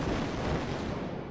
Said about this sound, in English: causing a massive explosion